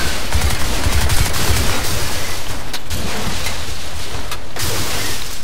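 Dense gunfire in the Crysis 2 video game, shooting objects loose, forms a loud continuous rattling barrage with sharper bursts scattered throughout.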